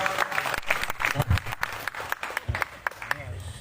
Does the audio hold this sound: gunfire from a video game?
no